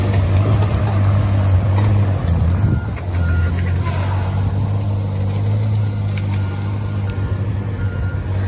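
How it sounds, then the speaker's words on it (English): A truck reverses near a Tigercat 830 forestry machine, its steady engine drone rolling loud and continuous under a recurring beep, with faint wind noise over the recording. "Truck coming back"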